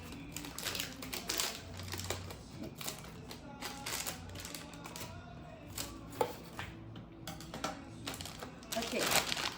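Scissors cut through plastic packaging around a BTS school backpack in a series of close, crisp snips and crinkles, irregular in rhythm, with a person talking quietly underneath.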